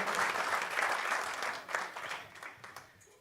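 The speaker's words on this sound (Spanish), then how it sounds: "Le damos un aplauso al Señor." A church congregation claps steadily at close range, the applause fading gradually toward the end, with no talking.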